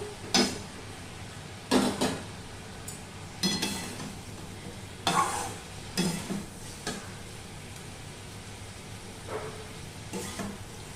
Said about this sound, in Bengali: মাছটা দিয়ে একসাথেই কষাবো।